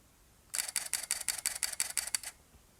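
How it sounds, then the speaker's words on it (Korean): Mirrorless camera shutter firing a high-speed continuous burst of about a dozen crisp, evenly spaced clicks, close and clear over near silence. "어쨌든 써있는 대로 고속연사를 한번 진행해 보도록 하겠습니다."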